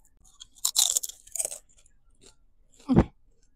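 Crunching and chewing on homemade seaweed popiah, crisp bites close to the mic in a quick burst, then a pause and one more loud crunchy bite.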